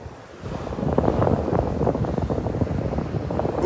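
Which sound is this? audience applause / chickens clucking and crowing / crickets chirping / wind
wind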